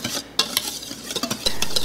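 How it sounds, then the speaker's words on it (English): A whisk scrapes and taps through a bowl of dry ingredients, flour mixed with cinnamon and baking soda for brownie cookies, in quick irregular strokes close by. "Now we just have to whisk this until it's completely mixed."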